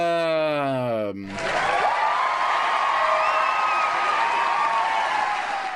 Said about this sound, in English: Let's have one more round of applause, just so y'all can get it out of your system